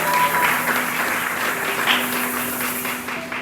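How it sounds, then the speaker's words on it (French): A church congregation applauds loudly and steadily, a dense wash of clapping from many hands filling the room with no break. "nous acclamons très très fort pour le Seigneur"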